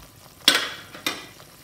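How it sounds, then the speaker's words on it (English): A spoon stirs thick Bengali-style fish curry in a stainless steel pot, giving two separate scraping, sizzling swishes close by with a quiet pause between them, and no voices. "Give those a quick stir."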